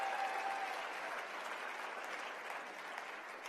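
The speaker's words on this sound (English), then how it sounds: "Give yourselves a round of applause for that." An audience claps together in a steady, fairly quiet round of applause that thins slightly toward the end, with no voices standing out.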